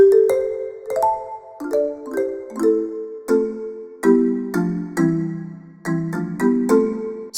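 Sampled marimba melody with convolution reverb, soft mallet strikes, each note blooming into a roomy reverberant tail, steady phrasing, no voices.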